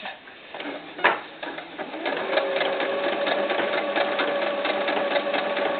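A sewing machine runs a stretch stitch on knit fabric for a doll's sleeveless tank top, starting with a few clicks and then settling into a steady close whirring rhythm.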